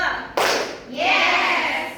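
Classroom hand-clapping game with primary school pupils: a single sharp group clap rings out, then children's voices call out together.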